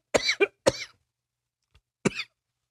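Three sharp coughs ring out close by: two in quick succession, then a pause and a third, with a tiny click in between.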